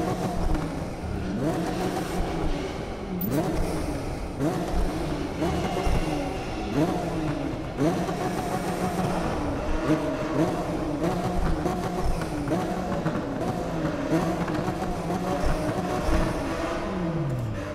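Toyota Supra engine in Need for Speed 2015, revving and accelerating inside a tunnel, loud and close with repeated rising and falling pitch sweeps, a voice talking faintly underneath.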